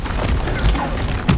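A Confringo blast spell cast in Hogwarts Legacy lands as a quick series of loud bursts and crackling impacts, with a heavier thump near the end and no voice.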